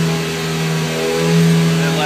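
A 2013 Hyundai Veloster Turbo with an aftermarket exhaust holds a loud, steady, deep engine drone close by, swelling briefly as the revs climb.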